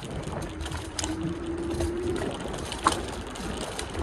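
An electric scooter on solid tyres rattles over cobblestones in a steady, gritty mechanical clatter with a faint rising whine and one sharp knock near the end, all blended with outdoor riding noise.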